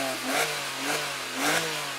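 Porsche Boxster RS60 Spyder with its special exhaust system, a steady mid-pitched engine note that swells in three short rises of revving, heard alone and moderately close.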